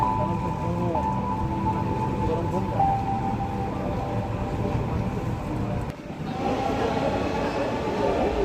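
A metro rail train in Dhaka runs with a steady rumbling drone and faint tonal whine, loud and continuous throughout, dipping briefly near the end before resuming.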